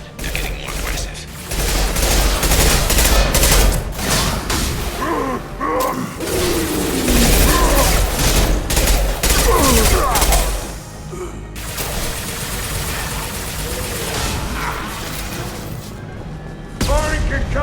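Mass Effect 2 combat, with rapid bursts of gunfire, heavy concussive blasts and mechanical clatter, loud and dense, then easing off as shooting continues more sparsely, with voices calling out over it.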